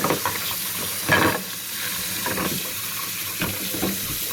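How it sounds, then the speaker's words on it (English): Hot water running into a bowl in a home kitchen, a continuous close hiss and splash with slight surges, no voices over it. "start putting hot water on it, and I just kind of actually just put it all in here, and I will just fill this up with water."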